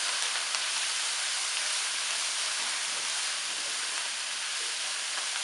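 Coriander leaves sautéing in a pan for coriander chicken, giving a steady, even sizzling hiss that holds unchanged throughout, close and moderately loud with no talking.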